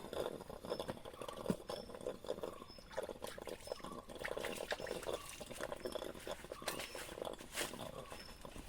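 Spring water runs down over rocks in a steady, rushing wash with scattered splashes and clicks that keeps going for the whole stretch, close by and moderately loud.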